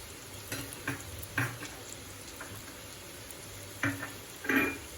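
Seasoned rice balls (undrallu) with pepper and salt are stirred in a pan over a gas flame, giving several scraping strokes with short gaps over a faint sizzle, close and moderately quiet, with no talking.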